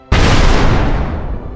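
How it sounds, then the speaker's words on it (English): Confederate cannon opening fire on Fort Sumter: a single loud, close artillery boom that bursts in abruptly and rolls off in a long, broad rumble with no other sound. "Confederate gunners opened fire."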